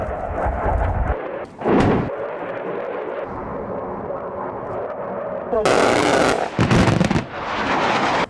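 Explosions of 500-pound MK82 bombs at an air force live fire demonstration, heard as heavy booming blasts and a sustained roar with sharp bursts, loud and distant-sounding.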